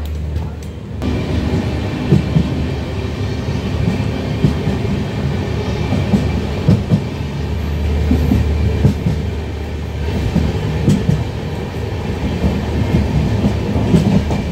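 The Amrita Express pulling out from platform 3, a loud steady rumble of rolling coaches with rhythmic clickety-clack of wheels over rail joints, heard from on board.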